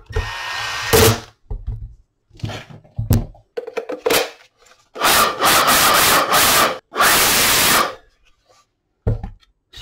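Power driver running T10 Torx screws into a DeWalt 20V Max blower, heard as several short bursts of whirring separated by pauses, with two longer, louder driving runs near the middle and a final short burst at the end.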